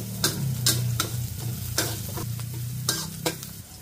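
Chopped garlic and shallots fry in hot oil for a Chinese-style chicken bun filling, a steady close sizzle broken by several sharp bursts of stirring and scraping, with no talking.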